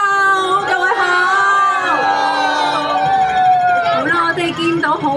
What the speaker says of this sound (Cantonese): 現場嘅觀眾唔好吝嗇你哋嘅歡呼聲喎